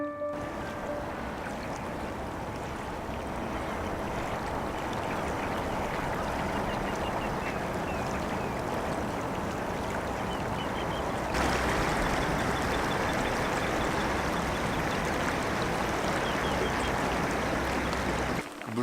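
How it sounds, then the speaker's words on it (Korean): The Geum River flows along an open riverbank in a steady, broad wash of moving water, fairly faint and continuous for the whole span, with no one speaking over it. "물길을 되찾고 흐르기 시작한 금강. 우리도 그 소리를 잠시 들어보자."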